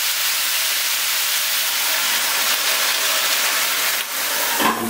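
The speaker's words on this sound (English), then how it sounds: "We close, and the steam inside will cook the mussels in like a few minutes" Steam hisses steadily inside a covered pot of mussels cooking in wine at high heat, a loud, even broadband rush that continues without a break, joined near the end by a short clatter.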